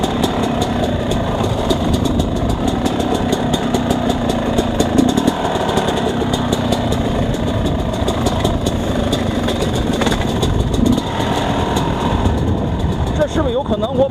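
XTNG GEN3+ 36 engine on a riding test, stalling with its lowest speed near 1,380 RPM, gives a steady loud mechanical drone throughout, with constant road or wind noise and a voice talking over it.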